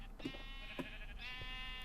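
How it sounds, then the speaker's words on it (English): Sheep in the video game Magicraft bleat in a wavering, nasal cry that stretches across most of the short moment, with a couple of soft thumps and a constant low hum beneath. "Here's the sheep."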